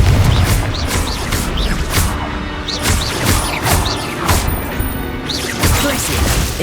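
Spells burst and crash during a fight with a troll in Hogwarts Legacy, a busy series of repeated loud blasts, whooshes and thuds with shouting voices mixed in throughout.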